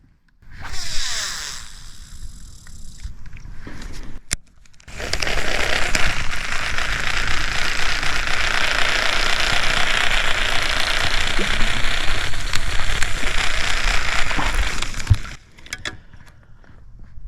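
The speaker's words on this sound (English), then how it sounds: "this reel is extremely loud and buzzy during the cast" A faulty spinning fishing reel, a LINGL 2, buzzes loudly during a cast, a harsh whir running continuously for about ten seconds, preceded by a shorter burst and clicks, then stops abruptly.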